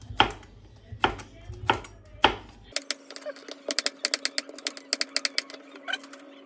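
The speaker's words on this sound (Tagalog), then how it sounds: "Hiwain ko lang to, slicing ko" A knife slices ingredients for egg noodle soup on a board, first with a few heavy spaced chops and then with a fast, crisp run of rhythmic cuts, close and clear.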